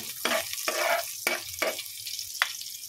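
Garlic and onion sautéing in a pan, a steady close sizzle broken by several quick scraping stirs of a utensil against the pan.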